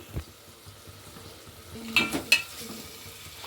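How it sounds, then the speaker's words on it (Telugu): Ginger garlic paste hits hot oil in a pan for mutton curry, giving a low steady sizzle with a couple of sharper crackling bursts and stirring scrapes near the end. "అలా వేస్తున్నానండి అల్లం వెల్లుల్లి పేస్టు"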